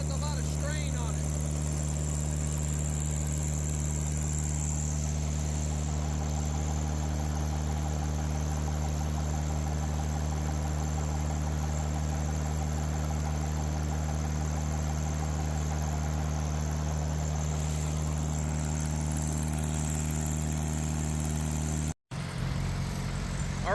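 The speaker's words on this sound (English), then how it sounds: "The engine definitely has a lot of strain on it." A pump engine runs under heavy strain while forcing water into a well in third gear, holding a loud, steady drone throughout before cutting off abruptly near the end.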